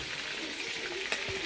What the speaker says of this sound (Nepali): हामी अहिले यो मासु फ्राई गर्दैछौँ